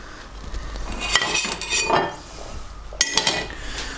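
A pan of boiling sauce for Chinese-style fried crucian carp with pork takes the added fish, heard as close metallic clinks and scrapes of utensils on the pan over a low bubbling hiss, with a short cluster of clatters near the end.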